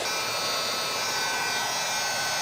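A heat gun fitted with a nozzle blows hot air to warm caulk at a kitchen sink, giving a loud, close, continuous whooshing roar with no breaks.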